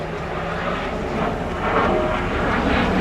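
A Slovenian Air Force Pilatus PC-9M turboprop performs aerobatics at an air show, its engine a loud, continuous roar that swells and shifts in pitch as it passes low overhead.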